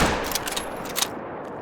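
Rifle shots fired at an alligator in the hunting game theHunter: Call of the Wild: a short burst of sharp cracks in quick succession with a louder report near the one-second mark, all over a dense, steady noisy background.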